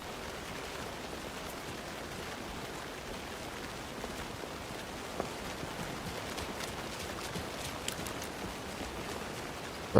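Rain in the video game Alan Wake II, a continuous steady hiss of falling rain and pattering drops at moderate volume, with no talking.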